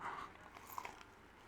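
A bite into crusty lardy cake, a rich spiced fruit bread made with lard, giving a faint, brief crunch with soft crackly chewing close by.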